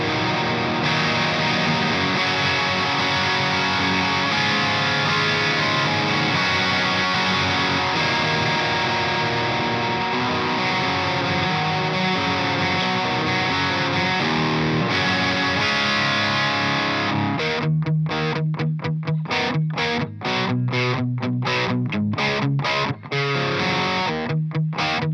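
Heavily distorted electric guitar played through a Synergy SYN-1 preamp loaded with a Diezel Herbert module, with a noise suppressor on, loud sustained chords for most of the passage, then tight rhythmic staccato chugs with sharp gated silences between them.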